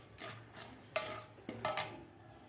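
Green chillies sautéing in a kadai for egg biryani, soft sizzling under several distinct stirring scrapes and spoon knocks against the pan, fairly quiet and close, with no speech.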